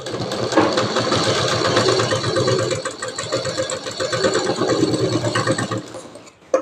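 A sewing machine stitches darts on a double katori blouse, giving a dense, steady mechanical whir with rapid rhythmic ticking that runs close and loud almost the whole time before stopping near the end.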